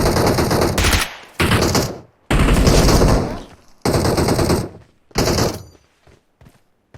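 Loud bursts of AKM rifle fire in PUBG Mobile, five separate volleys of rapid shots with short silent gaps between them, ending in quiet.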